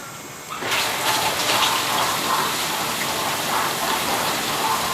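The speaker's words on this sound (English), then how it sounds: "And you can see all the spray arms are working now." Water sprays hard inside a dishwasher as its spray arms sweep the racks, a dense, steady hiss and wash that starts abruptly after a brief quiet moment and runs on loudly without pause.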